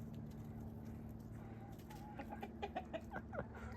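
Chickens cluck in a chicken coop, a series of short, moderately close clucks that grow busier toward the end over a quiet, steady background hum.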